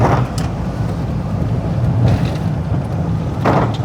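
Rainy-day road traffic in a jam, a steady low rumble of idling and slowly moving vehicles, close and loud, with wind buffeting the microphone and no talk.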